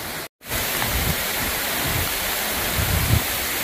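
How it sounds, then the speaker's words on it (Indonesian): Kelambu waterfall at Madakaripura pours down in a dense, steady hiss like heavy rain, loud and close, continuous after a brief cut at the start. "ini seperti hujan ya, tapi ini sebenarnya air terjun teman-teman"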